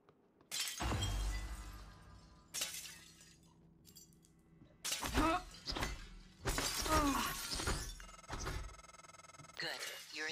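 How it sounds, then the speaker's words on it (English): Glass shattering in the video game Prey, several separate smashes in a row, each a loud crash with ringing shards, with a voice talking between them. "Part of what I do in TTT is I spend time just breaking glass and then walking to break all of it."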